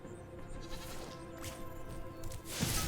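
A sheep bleats in the video game Spyro the Dragon, several wavering cries heard against steady game background sound, with no talking.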